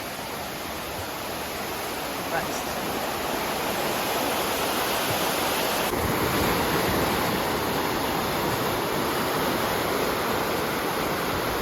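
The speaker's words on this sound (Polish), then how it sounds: "I tutaj płynie sobie strumień" A mountain stream in Switzerland rushes steadily close by, a dense, unbroken broadband roar of flowing water that holds at a constant level without speech.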